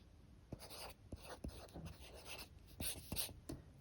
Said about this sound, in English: Right now, I'm writing in ballpoint pen.